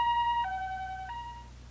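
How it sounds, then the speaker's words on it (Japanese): Ambulance siren in the Japanese horror adventure video game Hayarigami 2, a clear two-tone wail alternating high and low pitches, loud and close, fading slightly at the end with no talk. "救急車は再びけたたましいサイレンを鳴らしながら走り去っていった"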